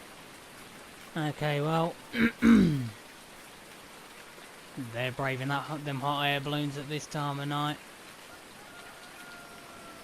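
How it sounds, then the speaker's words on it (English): Steady rain from the farming game Farming Simulator 19 patters as a constant background hiss, with someone talking over it in several short bursts. "Give me a break, rain."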